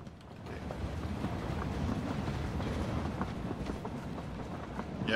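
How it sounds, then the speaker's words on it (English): A train rumbles past in PUBG on the snowy Vikendi map, a continuous rolling clatter that holds at moderate loudness throughout, with faint wind behind it. "I was just looking at the train passing by"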